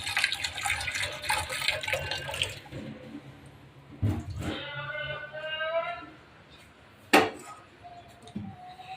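A household tap gushes with a strong hiss of running water as supply returns after two days without water, then cuts off. Clinks and a voice follow, and a short sharp splash sounds later.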